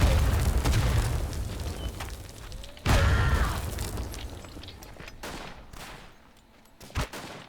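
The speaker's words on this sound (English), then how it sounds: "Getting artillery." Artillery shells burst in a First World War battle game, two heavy booms about three seconds apart followed by fainter distant blasts and sharp gunshots, all with a rumbling tail.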